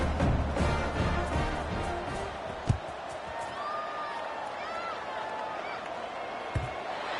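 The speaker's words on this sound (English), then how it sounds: "this crowd now ready to get behind them" A stadium crowd roars as a college football game featuring the Ducks prepares for kickoff, a broad sustained wash of cheering with a couple of sharp thumps, while an announcer talks over it.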